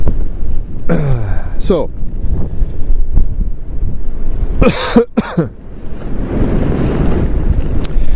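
Wind gusting outdoors by the Skeena river, buffeting the microphone with heavy rumbling and roaring throughout, while someone speaks briefly and coughs near the start.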